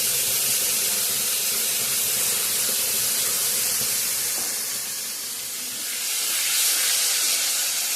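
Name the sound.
sizzling of spice paste added to frying onions and tomatoes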